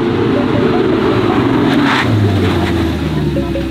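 A car roars in fast toward a Beverly Hills police stop, a loud, steady engine drone that swells slightly as it nears, with no one speaking over it.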